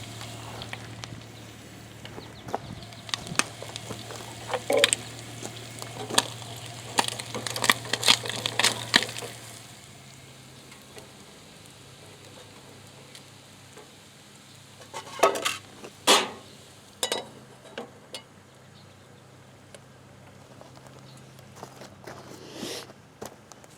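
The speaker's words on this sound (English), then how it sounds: "I better turn my taters" Potatoes frying in a pan are turned with a utensil, giving a run of sharp scraping clicks and knocks over a low steady sizzle. Later, a few more scattered bursts of stirring follow after a quieter stretch.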